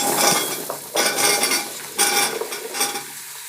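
Turnips tipped into a pan of roasted turmeric, with close clattering of a metal spoon against the pan in several bursts, followed by a brief sizzle and no talking.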